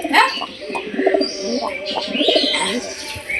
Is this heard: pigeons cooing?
yes